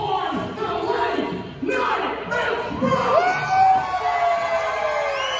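A crowd at a live RUGGEDpro Wrestling event in Oelwein cheers and shouts during a tag team match, loud and sustained with whoops and yells rising near the end.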